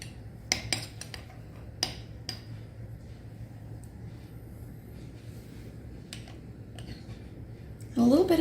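A spoon stirs ingredients with a little dill in a bowl, making a few sharp clinks early on, then long quiet stretches over a low background hum, with a brief louder scrape at the very end.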